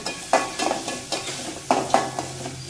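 Onions being stir-fried in a pan for amaranth greens poriyal: a steady soft sizzle with a spoon scraping and tapping the pan in a rhythmic series of strokes, close and moderately loud, with no talk.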